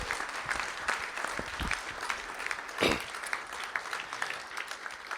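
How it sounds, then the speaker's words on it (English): A school board meeting audience applauds two student state-meet qualifiers: a steady, fairly soft wash of many hands clapping throughout, with a slightly louder burst near the middle. "Let's give them a round of applause."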